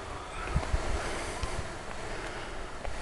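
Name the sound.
wind and waves on the rocky Caspian Sea shore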